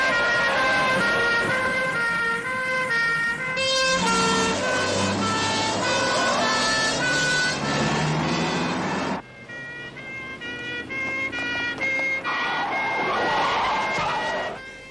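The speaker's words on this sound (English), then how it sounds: "Kill the siren." A loud wailing siren with shifting tones blares continuously, close by and dominating, with a brief dip and change of pattern partway through.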